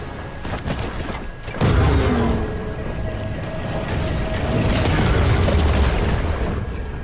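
Heavy torpedo blast in the video game Maneater, a loud booming explosion that hits suddenly after a short lull and then rolls on as a long, rumbling roar with debris-like crashing.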